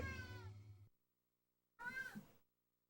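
A cat gives two drawn-out meows close by, the first longer, the second coming after a brief pause, with nothing else heard between them.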